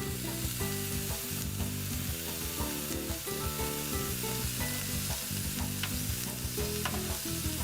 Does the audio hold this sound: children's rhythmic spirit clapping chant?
no